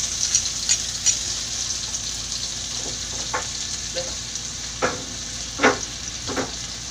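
Onions and tomatoes sauté together in a pan, giving a constant soft sizzle punctuated by a handful of spaced spatula scrapes, close and moderately loud, without speech.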